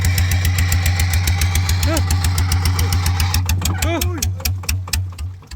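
A remote-controlled paddy-field tractor runs in second gear, its engine chugging in a fast, steady knocking rhythm close by, with brief voice-like sounds over it.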